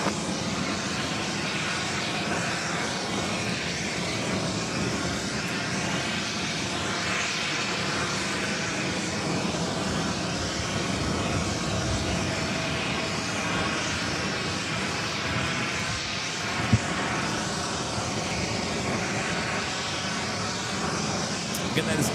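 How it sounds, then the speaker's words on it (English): An Aer Lingus Airbus A330-300 airliner arriving from Dublin at New York's JFK airport, heard as a steady, loud broadband engine roar filling the whole stretch, with radio talk and voices running underneath. "that is Aer Lingus, Flight 105, coming up from Dublin, A330-300"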